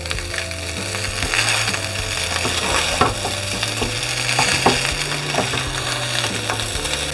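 Fried rice being stir-fried in a pan with fried chicken and mixed vegetables, a continuous sizzle broken by repeated scraping and tossing knocks of the spatula, close and fairly loud, no talk.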